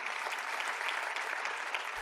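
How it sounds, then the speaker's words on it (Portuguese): Applause from a crowd at a law school welcome reception for new students, a dense, steady wash of clapping that holds evenly for about two seconds with no voices over it. "Uma salva de palmas a todos."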